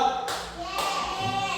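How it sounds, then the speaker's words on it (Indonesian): A group of children clap their hands during a classroom concentration game, giving a couple of sharp, fairly faint claps while a voice speaks over them. "Pak Guru cuma mendengar suara tepukan dulu"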